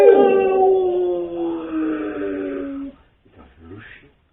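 A person's voice imitates a dog howling in a long, wavering tone that slides downward over about three seconds, while children's storytelling talk carries on around it; a brief quiet follows with faint rustling.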